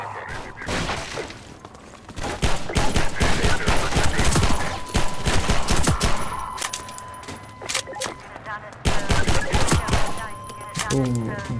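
Gunfire in Half-Life 2: loud bursts of automatic fire and crackling shots come in clusters, mixed with metallic clatter and game effects, with brief quiet stretches between volleys.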